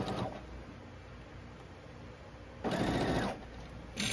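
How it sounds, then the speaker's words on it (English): Sewing machine chain sewing quilt block fabric: a quiet steady mechanical whir with louder bursts of stitching at the start, around three seconds and at the end, close and alone. "sewing, chain sewing."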